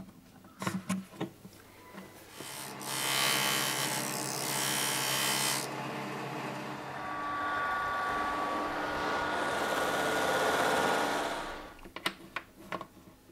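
A bone saddle for a stringed instrument is shaped with a rasp or file, giving two long stretches of dry gritty scraping framed by sharp knocks and handling taps at the start and end.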